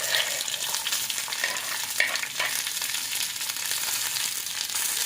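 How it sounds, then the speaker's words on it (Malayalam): Eggplant and tomato sizzle steadily in hot coconut oil for a Kerala sambar, a dense continuous frying hiss with faint stirring scrapes, close and fairly loud, with no talking. "അപ്പം നമുക്ക് അതിലേക്ക് നമ്മൾ നേരത്തെ പറഞ്ഞ പോലെ വഴുതനങ്ങയും തക്കാളിയും ഇട്ട് കൊടുക്കാം കേട്ടോ."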